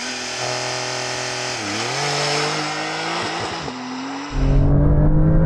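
A Porsche 911 Turbo S accelerates hard through a quarter-mile run, its engine note climbing steadily with a brief dip at a gear change, loud and close throughout, then a sudden burst of heavy wind roar near the end.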